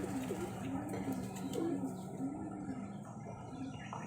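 Low, throaty coos from black-eyed Highflyer Geribaj pigeons repeat in a steady rhythm nearby over a dull background hum, with faint talk.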